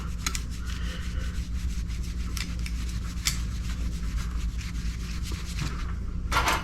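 A microfiber cloth rubbed briskly along the neck of a Fender Squier Telecaster guitar, a close, steady scrubbing hiss with small scratchy strokes throughout and no talking.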